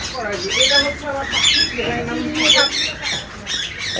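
Birds squawk in sharp, repeated bursts close by, mixed with people talking.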